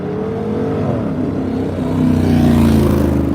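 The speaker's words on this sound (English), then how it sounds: "Y'all will hear some cars passing" Traffic on a street heard during a walk outside, a steady low engine rumble from passing cars that swells louder toward the end, with no talking.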